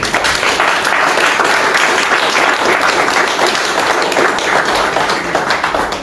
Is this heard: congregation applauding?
yes